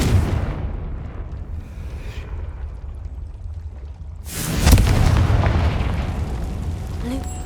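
A Confringo spell explodes in Hogwarts Legacy on PS5, a sudden loud blast that swells out of a rumbling ambient bed and trails into a long, crackling roar, with game voices speaking before it.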